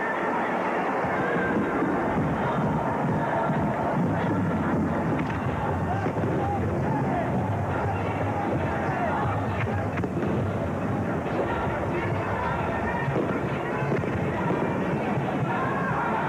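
Fireworks bursting over Giants Stadium in the Meadowlands Sports Complex during a 1984 college football kickoff event, a continuous rumbling crackle of repeated pops and booms carried under a dense crowd roar for the whole stretch.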